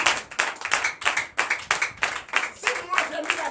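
A church congregation at a Sunday worship service in Benin claps for Jesus in rhythmic bursts, a lively run of group clapping close up with voices shouting and talking over it.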